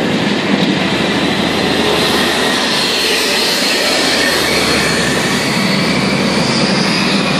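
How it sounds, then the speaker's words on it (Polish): A passenger train with its locomotive rolling past close by, a loud, steady roar of wheels and rumble that holds constant throughout, with faint squealing from the rails. "Teraz będzie lokomotywa."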